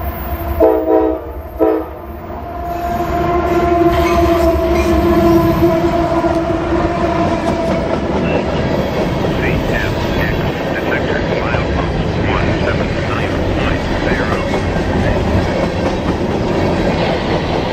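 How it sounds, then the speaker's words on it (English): A northbound CSX train in Nashville, Tennessee passes close and loud after three short horn blasts, its cars rumbling and clattering steadily for the rest of the pass. "a quick northbound train heads its way through with a very friendly crew offering three blasts of the horn to say hello this morning"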